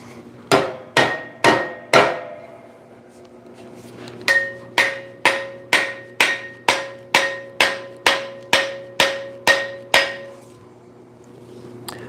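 A hammer strikes repeatedly at a battle axe, sharp ringing metallic blows: a few spaced hits, a short pause, then a long steady series of evenly timed impacts, loud and close with a lingering ring.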